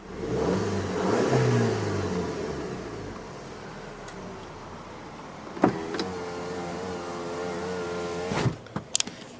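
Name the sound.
Volkswagen Eos 2.0T engine revving to rev limiter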